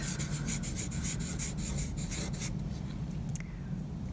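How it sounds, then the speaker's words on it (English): A pen writing a name in cursive on paper, close and quiet, with rhythmic scratchy strokes for a few seconds, then a pause and a couple of short final marks. "And then I can also write it in cursive."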